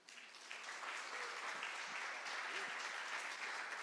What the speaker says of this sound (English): Please give a warm round of applause for Dave Meyer.